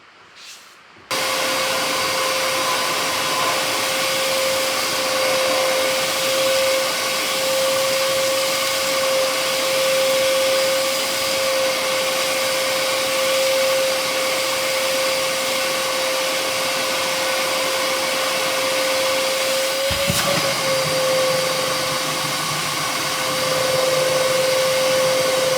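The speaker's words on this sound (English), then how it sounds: "once again, the vacuum is clear of debris" A loud vacuum cleaner fitted with a Dustopper Pro dust separator whirs steadily after a short start, a continuous high droning hum that barely shifts, with a brief change in tone near the end.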